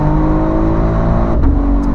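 A 630 hp BMW X3 M engine drones loudly and steadily at high revs during a lap of the Nürburgring, a sustained harmonic roar with a brief dip near the end.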